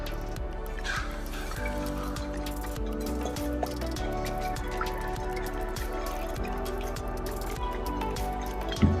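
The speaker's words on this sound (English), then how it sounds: "So I'm just gonna kind of shake it and see what happens." An 11 oz Ello Ogden Archie travel mug with a friction-fit lid is shaken, and liquid sloshes and drips inside in a rapid rhythm over a steady background hum.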